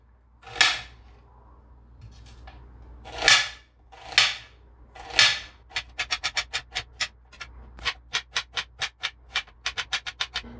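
A knife cuts onions on a board for biryani: a few spaced, crisp chops, then a quick even run of sharp taps, close by with no talking.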